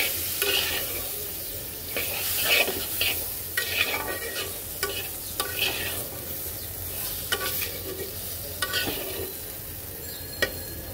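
Turmeric and coriander powder are stirred into food frying in a pan, with repeated scraping strokes of a spoon against the pan over a steady sizzle, close by and with no talking.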